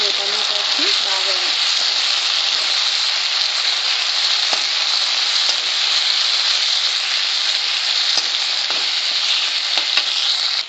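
Tomatoes frying in a pan for a curry, a loud steady sizzle with occasional stirring clicks throughout and no talk.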